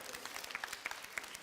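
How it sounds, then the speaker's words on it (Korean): A small congregation at a church youth service claps, a quiet, sparse patter of individual hand claps fairly close by. "예, 박수요, 박수."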